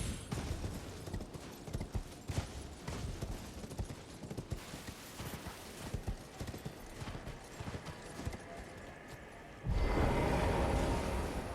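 Horse hooves gallop in the video game Elden Ring, a steady run of clip-clop footfalls close up and loud throughout, with a denser, louder stretch of rushing noise near the end.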